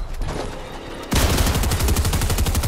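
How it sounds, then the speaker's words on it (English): Video game gunfire: after a quieter stretch, a rapid burst of repeated shots starts abruptly and continues as a loud, steady automatic rattle to the end. "Somebody's shooting you."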